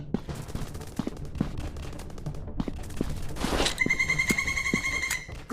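Gunfire in an FPS shooting game, Counter Terrorist with PUBG-style combat: scattered single shots give way to a sharp burst and then a rapid, loud machine-gun stream with ringing metallic tones.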